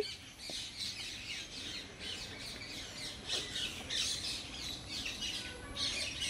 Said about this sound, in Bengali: এই দেখুন কত রকমের প্যারট।